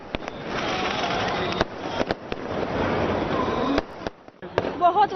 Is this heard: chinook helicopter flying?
no